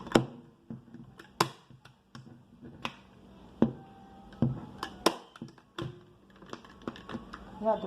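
A staple gun fires sharp, close clicks at an irregular pace while fabric is stapled onto a bar stool during reupholstery, with soft handling noises between the shots.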